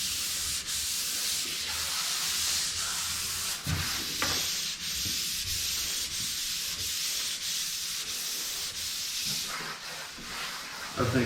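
Wet sanding on the body of a 1969 Chevrolet Chevelle, a close rhythmic rubbing hiss with short strokes and brief pauses, steady and fairly loud, alone without speech.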